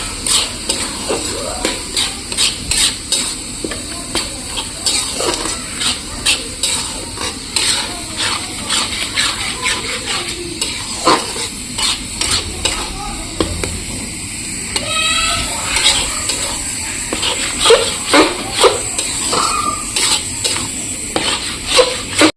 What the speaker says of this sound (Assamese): এতিয়া ধুনীয়াকৈ মিক্স কৰি ল'ম।